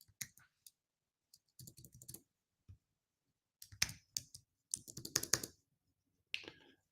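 Typing on a computer keyboard while logging into a website, heard as irregular bursts of quiet, close clicking keystrokes separated by short pauses, with no talking.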